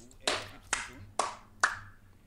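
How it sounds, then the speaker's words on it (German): Four sharp hand claps spaced evenly about half a second apart, close and crisp, played in time with a song during a Command & Conquer Generals Zero Hour Shockwave mod session, over faint background sound. "ich wollte es an dem Lied passend klatschen"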